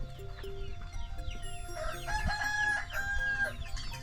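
On a rural farm where families raise livestock, native chickens cluck and a rooster crows loudly nearby, with other birds chirping in the background.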